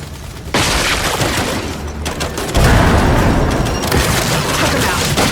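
Turret gunfire and explosions in the video game Gears 5 form a loud, dense barrage of booms and rapid shots that grows heavier halfway through and continues without a break.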